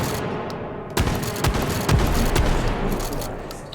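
Four or so heavy shotgun blasts with number 4 buckshot in the VR shooter H3VR, fired at a steady pace after a quieter stretch, each a sharp booming crack over a constant noisy game backdrop.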